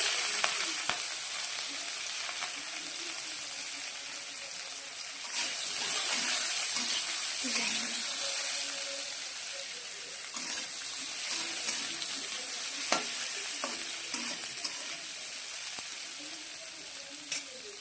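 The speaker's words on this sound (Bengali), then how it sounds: "শুকনো লঙ্কা, দিয়ে একটা কাঁচা লঙ্কা, পেঁয়াজ কুচি" Dried red chilli, green chilli and chopped onion fry in a pan with a continuous bright crackle and sizzle, broken by occasional sharp pops and the scrape of stirring.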